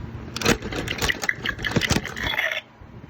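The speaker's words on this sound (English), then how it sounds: "I'll have to crank that 3 times" A Burping Bobby food composter toy is cranked by hand, giving several quick rattling, scraping turns in close, fairly faint bursts that stop abruptly.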